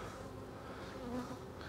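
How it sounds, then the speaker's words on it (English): A dense, steady buzz from honey bees swarming over a hive frame during varroa mite testing, close and continuous with no talking. "We're just going to shake these bees down in here."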